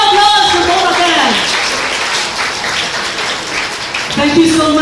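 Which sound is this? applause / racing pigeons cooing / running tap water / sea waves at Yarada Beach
applause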